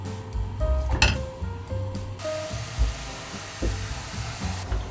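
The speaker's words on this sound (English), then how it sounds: "heat on, meat goes in." Pork sizzles and crackles in a hot pan while batch cooking curry puff filling, with a steady frying hiss, a few clinks of a utensil, and close stirring and scraping.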